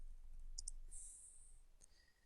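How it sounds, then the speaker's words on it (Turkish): Computer mouse double-click while working in circuit board design software: two quick faint clicks close together, followed by a couple of softer clicks, in a quiet room. "Çift tıkladım bunu"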